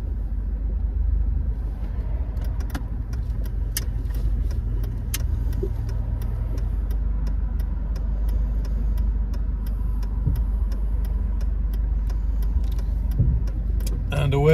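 Interior of a 1991 Mercedes-Benz 190E 2.0 pulling away from a car park, a low steady engine rumble with faint clicks and rattles, fairly loud and continuous.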